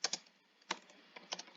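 Short bursts of keystrokes on a computer keyboard while a command is entered: a few quick clusters of taps with brief pauses between, close and fairly quiet.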